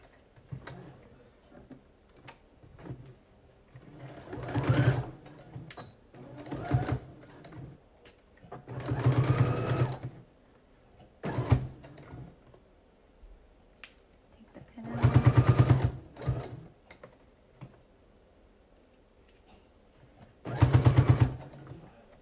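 A sewing machine stitches a reusable face mask in short, rapid bursts of mechanical whirring, about six runs separated by quiet pauses, close and clear with no talking over it.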